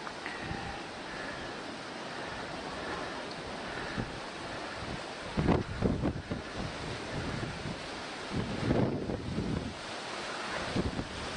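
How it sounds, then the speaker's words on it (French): Wind from an approaching storm roars steadily across open water near cliffs, with heavier gusts buffeting the microphone in bursts. "Et là il y a une belle tempête, un beau petit vent qui s'approche de nous là."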